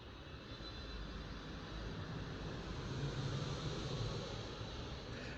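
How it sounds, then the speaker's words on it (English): A steady jet engine roar from a low-flying airplane landing at LAX fills the air, swelling slightly as it passes close by, with no talking. "I live so close to LAX that you can hear the airplanes landing."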